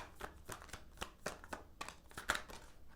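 Tarot cards are shuffled close by, a soft riffling and slapping in quick repeated bursts, faint and unaccompanied by speech.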